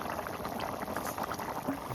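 Duck meat curry gravy boils in a pot, a close, steady bubbling and popping that keeps going without pause and without talk.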